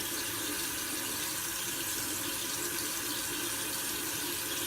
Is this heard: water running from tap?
yes